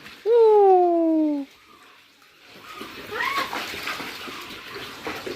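Water pours into a children's pool at home as a steady, moderate rushing and splashing that builds in the second half, following a brief loud high-pitched voiced cry at the start.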